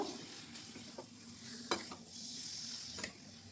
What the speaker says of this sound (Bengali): এবার চিকেন আর মশলাটা আমি খুব ভালো করে কষিয়ে নেব